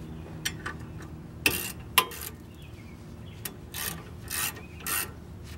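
A ratchet tightens bolts on the brake caliper of a 2017 Chevrolet Colorado truck, giving several short, sharp clicking bursts spread unevenly across the clip over a quiet garage background, with no talking.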